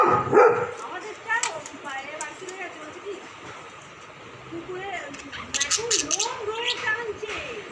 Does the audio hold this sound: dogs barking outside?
yes